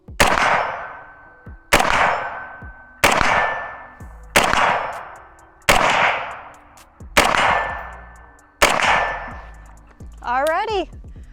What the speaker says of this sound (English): So we're gonna get to shooting and see how well it does.